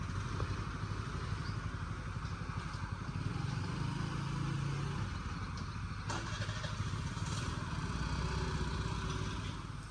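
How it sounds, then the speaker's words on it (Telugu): A scooter's engine runs in a steady, fairly faint drone with light mechanical clatter as it rides off, with no speech. "స్కూటీ అయినా లోడి బాగా బాగా తోలుతాడండి"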